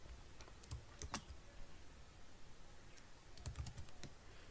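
Computer keyboard keys tapped while entering C code, scattered quiet clicks in short bursts with pauses between, close and faint.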